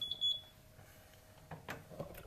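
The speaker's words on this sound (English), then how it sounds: "And there goes the timer." A kitchen timer on a home beer-brewing setup gives two quick high beeps at the start, followed by quiet room sounds and some faint handling noises.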